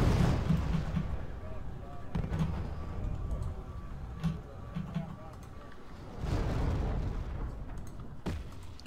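A vehicle's ammunition cooks off internally in a video game, heard as a string of booming bursts and pops that swell and fade over several seconds, with heavier rumbling blasts near the start and again later.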